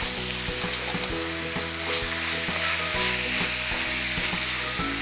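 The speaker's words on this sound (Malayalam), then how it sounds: "ചിക്കനെ ഒന്ന് സോട്ടേ ചെയ്യാം" Chicken sautés in a hot pan, a loud continuous sizzle close by, broken by regular scraping knocks as the pieces are stirred.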